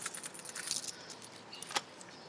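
Coins jingling and clinking as they are sorted and counted by hand, a busy metallic rattle through the first second, then sparser small clinks with one sharper clink near the end, close by, with no voices.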